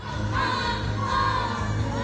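A lively crowd at the Kapuso Fiesta stage show makes a steady murmur of voices and cheering, with a sustained tonal sound like a held note or music running through it.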